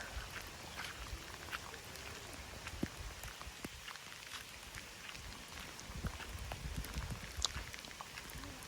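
Rain falling steadily on surfaces outdoors, a soft continuous patter dotted with sharper individual drops, fairly quiet and without voices.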